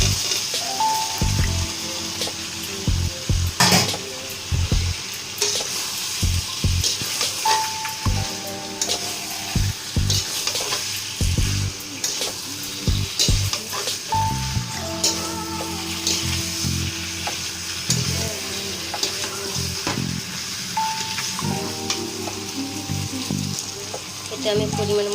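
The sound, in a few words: fried vegetables frying in spiced oil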